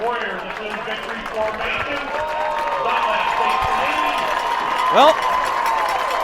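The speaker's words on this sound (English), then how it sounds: "the Penn Trafford faithful making some noise right now" A large high school football crowd of Penn-Trafford and Gateway fans roars and cheers steadily throughout, with a play-by-play announcer talking over the noise.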